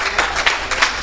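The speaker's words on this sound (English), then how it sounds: "Give the Lord a big clap." A congregation at a Sunday worship service claps in a short, dense burst of applause, with a few sharper claps standing out.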